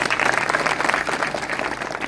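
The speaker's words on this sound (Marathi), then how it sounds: "इकडे उजव्या हाताला छोटी छोटी मुलं आणि सुंदर अशा मुली टाळ घेऊन उभ्या आहेत, त्यांच्यासाठी टाळी वाजवा." Steady applause from an audience at a Marathi kirtan at Davanewadi, sustained dense clapping of a crowd that fills the whole stretch at moderate loudness.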